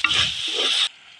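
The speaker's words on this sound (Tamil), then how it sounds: "உப்பு போட்டு வதக்கினா தக்காளி நல்லா வதங்கிடும்" Tomatoes sautéing with salt in oil for a Tamil oil-brinjal curry give a loud, close sizzle with stirring scrapes for under a second before it cuts off sharply to quiet.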